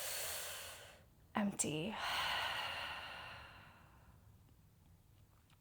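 During a yoga session, a breath is drawn in and then let out in a long audible exhale, soft and close. A short spoken word breaks in midway, over faint room hiss.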